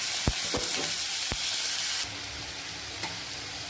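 Tomatoes hit a hot pan with chilli powder and garam masala for a tomato chutney, a loud, steady sizzle close up, with a few sharp crackles and pops scattered over it.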